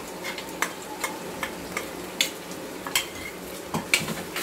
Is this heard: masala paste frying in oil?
yes